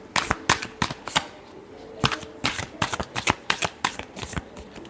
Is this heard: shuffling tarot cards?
yes